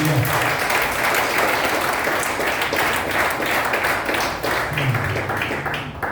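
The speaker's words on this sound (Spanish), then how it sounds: "Denle un fuerte aplauso al Señor" A church congregation gives sustained applause to the Lord, a dense, even wash of clapping that continues throughout.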